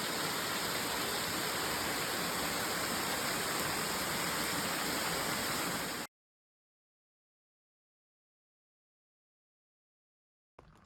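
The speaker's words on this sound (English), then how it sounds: "Right across from this beautiful waterfall, we found a kitchen table." Broadband roar of a waterfall in the Dolly Sods wilderness, steady and close for about six seconds before cutting abruptly to silence.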